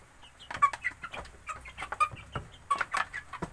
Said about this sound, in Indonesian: ayam-ayam ini sangat lahap ya